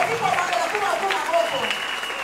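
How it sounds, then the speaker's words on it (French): A church congregation claps and cheers together for the King of Kings, a steady wash of applause and voices at close range under continuous crowd noise. "On peut acclamer très fort le roi des rois."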